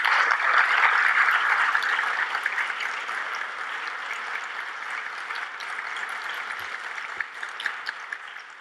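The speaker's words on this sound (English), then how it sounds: "give a really great, wonderful round of applause to the 4th place winners" Steady, sustained applause from an audience at a Caribbean tourism student colloquium awards ceremony in New York, greeting fourth place winners from the Cayman Islands; dense and even throughout, easing slightly toward the end.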